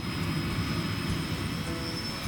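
An XK K124 EC145 brushless scale RC helicopter flies nearby, giving a steady high-pitched rotor and motor whine over a continuous broadband rush, with no talking.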